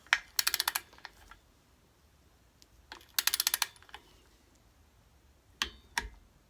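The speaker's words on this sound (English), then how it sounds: "That click is the sound of torque." A torque wrench set to 18 foot-pounds tightens a bolt on a 1971 VW engine case, making quick bursts of sharp mechanical ratcheting clicks in three short spurts separated by pauses, close and fairly quiet.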